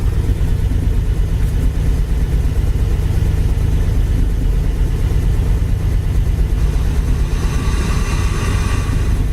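A 1968 Pontiac Firebird's engine idling with a low, steady rumble, close and loud throughout, with a faint higher whine creeping in near the end and no voices.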